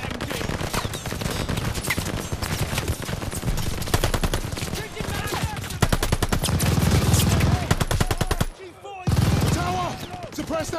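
Machine gun fire in the World War II shooter Call of Duty: Vanguard: dense, sustained automatic bursts from a tower MG with several weapons overlapping. Battle shouts run underneath, and there is one brief pause near the end.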